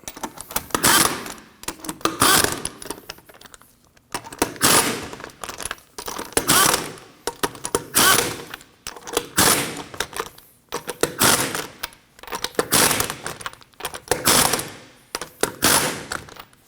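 Wheel hub bolts on a 2003-2006 Subaru Baja snugged up with a rattling impact gun, loud repeated bursts of rapid hammering about every two seconds with brief gaps between.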